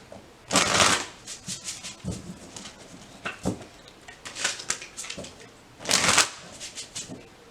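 Self-love affirmation cards being shuffled by hand in bursts of riffling and flicking, with two louder shuffles standing out against quieter card handling; no talking.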